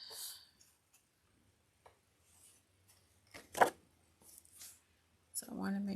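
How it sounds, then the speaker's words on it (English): Scissors snipping foil strips in a quiet craft setting: scattered soft clicks and a sharper crisp cut near the middle, with a voice talking at the end. "I got my scissors. Let's get these cut."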